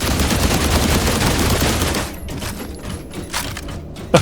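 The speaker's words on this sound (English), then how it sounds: "He's shooting laser." Laser weapon fire in the video game The Last Caretaker: a dense, loud stream of rapid shots for two seconds, then sparser, quieter blasts with a sharp hit at the end.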